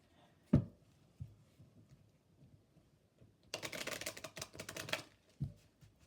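A short burst of rapid tarot card shuffling riffles through the middle of the clip, bracketed by a few soft thumps and handling sounds in a quiet room.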